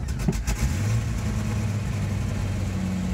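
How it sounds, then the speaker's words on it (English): A Jeep Comanche 4.0-litre straight-six engine idles and revs steadily with a low mechanical hum, close by, with a few brief knocks at the start. "Sounds like the straight 6"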